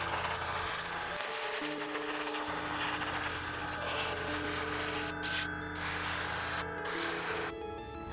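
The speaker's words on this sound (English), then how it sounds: "I'm just going to airbrush everything white" An airbrush hisses steadily as it sprays white paint onto a model pirate ship hull, a soft continuous airy spray with a few brief interruptions near the end.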